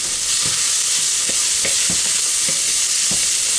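Sliced vegetables sizzle in a hot pan for spicy Mexican rice, a steady broadband frying hiss punctuated by occasional spatula scrapes and taps against the pan, fairly loud and close with no talking.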